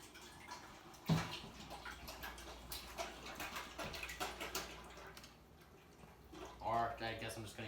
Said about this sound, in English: I got this great value vegetable oil. I'm gonna pour it in this pan, or this pot.